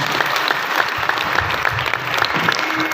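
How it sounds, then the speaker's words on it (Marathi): An audience at a village kirtan claps for the accompanying musicians and singers, a loud, close, sustained burst of many hands clapping together with no voices over it. "याची संगत वाजवणारे भाई गाणारे भाई यांच्यासाठी एकदा टाळ्या वाजवा."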